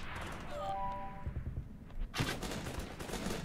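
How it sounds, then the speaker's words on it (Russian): Gunfire in the video game Guns Up!: a short burst of shots, then a dense, loud fusillade of rapid shots that keeps going to the end. "Фига они стреляют."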